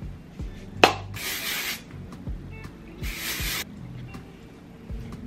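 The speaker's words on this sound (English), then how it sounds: "now I'm going in with a texture spray" Two short hissing bursts of an aerosol hair texture spray, close by, separated by a pause, with faint rustling and handling noises in between.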